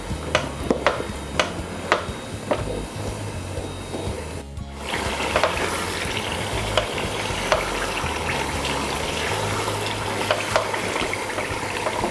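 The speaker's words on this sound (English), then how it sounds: "So you have to mix them together and keep on stirring." Shito, a hot black pepper sauce, sizzling and frying in a pan while it is stirred, with steady crackle and repeated scraping taps of a utensil against the pan, no voices.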